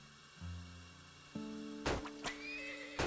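Horses neighing in the video game Turmoil: a low whinny, then a brighter second call, followed by sharp snorting bursts near the end, close and clear with no talk.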